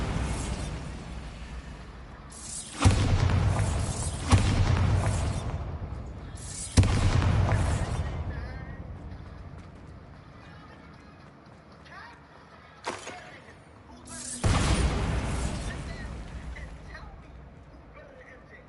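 Several heavy magical blasts from the Bombarda spell in the game Hogwarts Legacy, loud booming bursts at irregular intervals with a long decaying rumble, mixed with game effects and a voice speaking between them.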